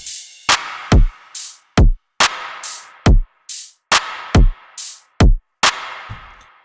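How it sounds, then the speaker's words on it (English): Drum pattern from a remix, punchy kick hits paired with sharp crash and hi-hat bursts in a steady, evenly spaced rhythm, loud and isolated with no voices. "All together, again, drums sound like this"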